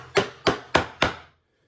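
A hand chisel is struck four times while chopping a mortise in wood, producing sharp evenly spaced mallet thwacks about a third of a second apart, loud and close, followed by silence.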